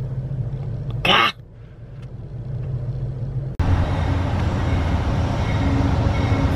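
A train pulls into a station with a steady rumbling roar that suddenly grows louder partway through, after a quieter low hum and a brief sharp burst of noise.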